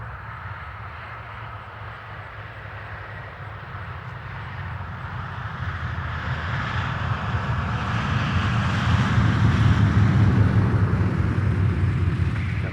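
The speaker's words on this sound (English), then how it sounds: "See why people love this airplane." A B-17 Flying Fortress bomber rumbles steadily with a deep, sustained drone of its piston engines, growing gradually louder and closer over the span, with no talk over it.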